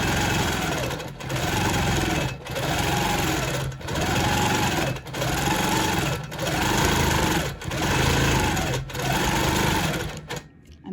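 A sewing machine stitching an orange peel quilt design, running in about eight fast even bursts separated by short pauses, close and steady.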